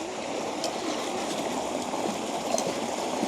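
Continuous rushing flow of water, steady and fairly close, with no speech.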